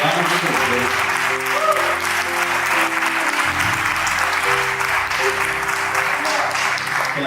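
Applause rises from a church congregation during a Spanish-language evening service, a steady dense wash of clapping held for the full stretch alongside sustained tones and a voice.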